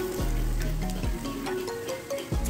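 Bottle gourd leaf fritters fry in hot oil with a continuous, loud sizzle, close up, broken by a few scraping stirs and knocks of a utensil in the pan.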